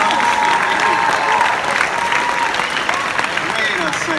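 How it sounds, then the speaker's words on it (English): A room full of people at a convention panel applauds continuously, with a voice speaking briefly over the clapping at the start. "How about a round of applause for our panel?"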